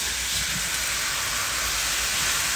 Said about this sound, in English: Just a little bit of water in there to steam them